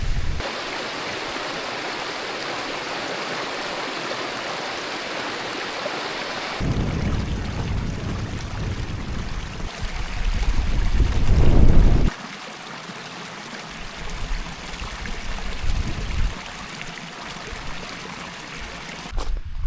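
Ruddy Gill, a rocky mountain stream in the Lake District, rushes and splashes steadily nearby, its broad hiss shifting in loudness as the listening spot moves closer and farther from the water.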